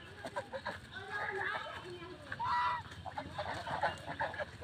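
White and black king geese honk repeatedly at close range, a loose cluster of nasal calls with one louder, sustained honk in the middle, over background chatter and movement.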